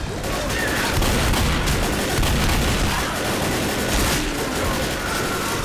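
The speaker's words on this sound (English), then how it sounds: "Darn it, stop firing randomly." Gunfire in the zombie shooter Left 4 Dead comes as dense, continuous rapid shots and bursts that run the whole time, loud and close, with scattered booms.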